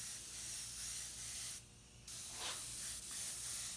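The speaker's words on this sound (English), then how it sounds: "You can also dial in the aperture a little bit to make it finer mist. But I'm just going to kind of mist it up on there." Airbrush hissing out a fine mist of black paint during a custom paint distressing job, a steady close spray with one brief pause midway before resuming, no talking.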